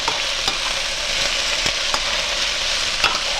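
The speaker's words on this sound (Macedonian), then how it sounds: "ќе го проверам кромидот да не ни изгори. Еве, почна да се пржи убаво." Chopped onions fry and sizzle steadily in a pan, a constant dense crackle with a few sharper pops and scraping stirs, close and loud, with no talking.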